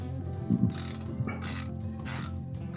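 A socket ratchet clicks in quick bursts as a 14 mm bolt on the front brakes of a 2016 Mazda 6 is snugged down, close, metallic pawl clicks in three or four short strokes.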